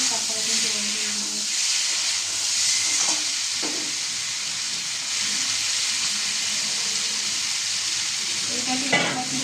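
Eggs already cooked down in a pan with boiled potatoes get a splash of water, setting off a steady sizzle and hiss with some stirring clatter, fairly close throughout.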